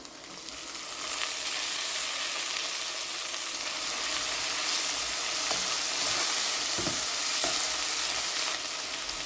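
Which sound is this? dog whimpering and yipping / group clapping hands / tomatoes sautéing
tomatoes sautéing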